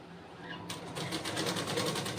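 A sewing machine stitches fabric piping: after a short quiet moment it starts up into a fast, even run of rapid stitching pulses, close and moderately loud, with no talking.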